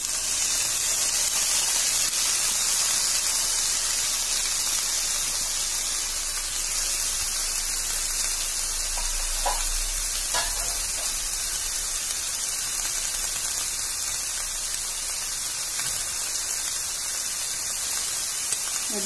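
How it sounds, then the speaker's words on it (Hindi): Chopped vegetables sauté in a hot pan for grilled fish, giving a steady, loud, hissing sizzle like rain that runs unbroken throughout. "इसको 1 से 2 मिनट तक सौते होने देते हैं"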